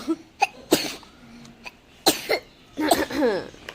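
A small child with a mild cough and runny nose coughs in several short, sharp bursts spread over a few seconds, close by, with a longer throaty vocal sound near the end.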